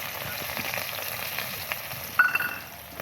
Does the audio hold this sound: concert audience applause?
no